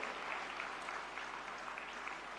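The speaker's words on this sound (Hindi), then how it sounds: "जोरदार तालियां हमारे सभी डिग्निटरीज के लिए" An audience claps for dignitaries at the inaugural session of an Ayush ministry yoga event, a dense, even wash of applause that stays steady and fairly distant for the whole short stretch.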